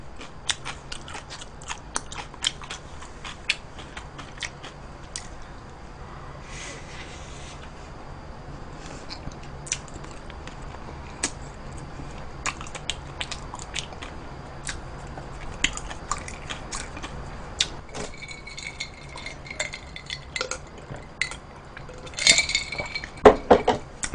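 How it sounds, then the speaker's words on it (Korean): A person eats jjajangmyeon, thick black-bean noodles, with soft, close, irregular chewing and biting sounds over a long stretch, scattered light clinks of utensils against dishes, and a few sharper clatters near the end. "오늘 왜 이렇게 오물오물 드세요?"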